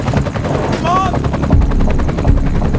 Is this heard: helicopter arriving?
yes